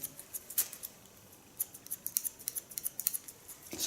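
Thinning scissors with small shark-tooth blades snip through hair during a pixie bob haircut, giving a series of quick, crisp close-up clicks in an irregular rhythm with no talking.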